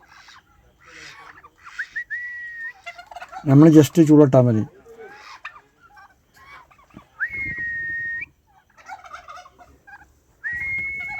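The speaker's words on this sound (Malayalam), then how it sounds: "ഇത് തുമ്പിരി കോഴിയാണ്" A turkey at a home yard gobbles loudly in one burst, with whistling tones at intervals and a person speaking briefly between the calls.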